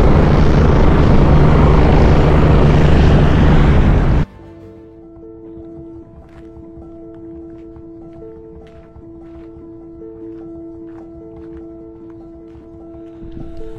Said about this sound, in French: Là, il y a l'hélico du PGHM qui est en train de tourner, là.